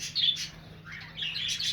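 Several budgerigars in breeding cages chirp and tweet in quick, bright bursts, fairly close, with a faint low hum underneath.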